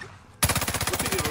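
Automatic gunfire in a first-person shooter game bursts in suddenly after a quiet moment, a fast, close, loud run of evenly spaced shots with no talk.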